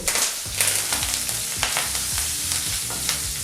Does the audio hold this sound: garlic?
yes